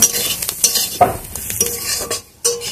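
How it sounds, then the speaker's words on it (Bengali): Cauliflower filling for kochuri being stirred and fried in a pan, a close scraping stir with soft sizzling underneath, in a few uneven strokes and no voices. "সবকিছু দিয়ে নাড়াচাড়া করে ফুলকপিটাকে আরো ভেজে নেব"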